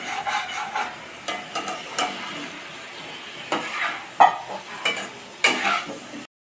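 Dal being stirred and heated in a pan, a spoon scraping and knocking in irregular strokes over a soft, steady sizzle, close and without speech.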